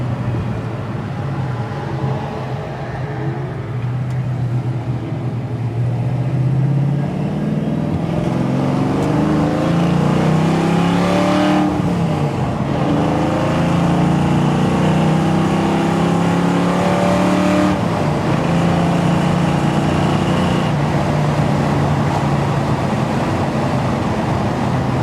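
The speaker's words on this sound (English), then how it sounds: "The exhaust note is just perfect. I love the exhaust note." A 1967 Ford Mustang Fastback accelerating at highway speed, its loud exhaust roaring steadily with rising and falling engine pitch as it pulls through the gears, close and continuous with no talking.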